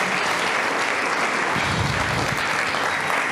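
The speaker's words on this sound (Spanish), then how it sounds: "Denle aplauso al Señor" A church congregation at an anniversary service applauds, with dense, loud, continuous clapping filling the moment without a break.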